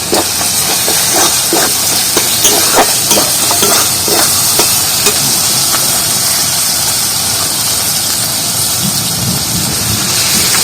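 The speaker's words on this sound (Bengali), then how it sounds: "এবার দিয়ে দেবো জিরে বাটা, কাঁচা জিরে বাটা দিয়ে দিচ্ছি।" Raw cumin paste frying in an oily spice masala for a chicken curry with shaluk, a loud steady hiss and sizzle throughout with faint stirring scrapes and occasional crackles.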